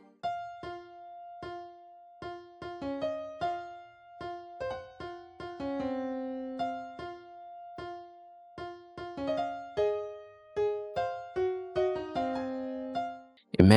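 A Trident synth plays call-and-response phrases in a dark Detroit-style beat, longer sustained tones answered by short plucked notes, clean and mid-loud, with no voices.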